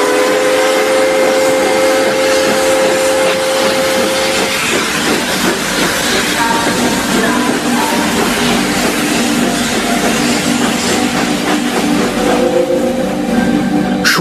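A train pulling away from a small station, with a loud, continuous rumble and hiss plus faint tonal whines, holding steady throughout without speech.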